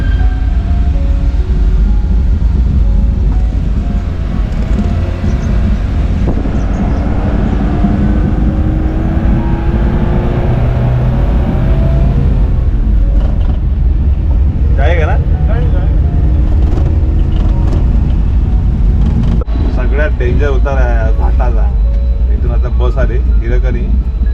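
A loaded tempo climbing a steep ghat road after Goregaon in the Konkan, its engine droning loud and steady with constant road rumble while someone talks over it.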